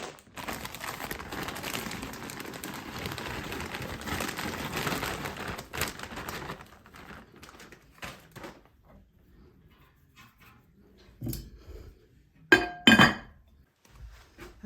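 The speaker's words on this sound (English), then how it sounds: "I'm gonna put this in, put the lid on, and go to work doing something else" A glass lid is set onto a crock pot after quiet handling noises, giving a couple of bright clinks close by near the end.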